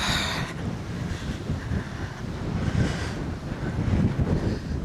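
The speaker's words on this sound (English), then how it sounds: "I'm not even sure you're going to hear this because it's, like I say, it's a bit windy." Strong wind buffets the microphone beside Lochindorb, a broad, steady roar that swells and gusts throughout with no voices, carrying a faint rushing hiss like water or waves beneath it.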